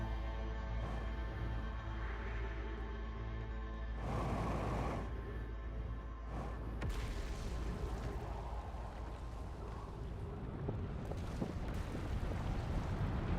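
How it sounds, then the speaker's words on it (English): A deep, rumbling roar of the sun going supernova in Outer Wilds swells over a droning tonal hum, with broad surges of noise building and washing through. "That sure sounds like the sun's exploding."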